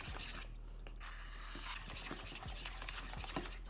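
A broccoli mixture dressed with cider vinegar is stirred in a bowl, producing a run of close, soft scraping and clicking strokes with no talking.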